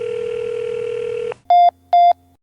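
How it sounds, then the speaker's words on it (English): Two short, loud tone bursts with even gaps between them, a telephone busy signal, coming after a long steady dial tone. "The line is busy."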